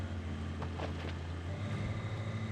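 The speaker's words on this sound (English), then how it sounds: "My only problem with first person is the engines get a lot louder" Vehicle engine in the RoadCraft video game heard from a first-person cab view: a loud, steady low drone with a constant hum and faint wind-like noise, running continuously with no voices.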